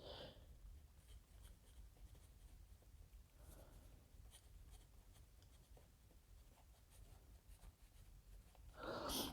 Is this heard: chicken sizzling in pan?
no